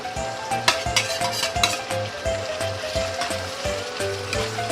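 Baguio beans and mushrooms sauté in a hot pan, with a continuous close sizzle and a regular rhythm of stirring clatter from a utensil against the pan.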